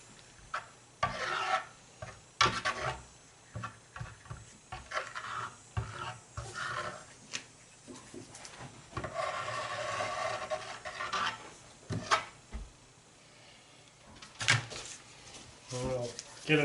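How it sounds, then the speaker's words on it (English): A brush chops and dabs wet epoxy across a countertop board for a marble effect, giving repeated rasping, scrubbing strokes in irregular bursts, close and fairly loud, with some talking mixed in. "So we're going to chop it with a brush."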